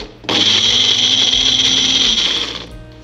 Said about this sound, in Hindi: this is a mixer grinder from Mumbai